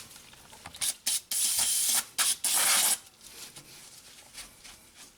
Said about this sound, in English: we'll hit this with some brake clean and then we'll put the cap back on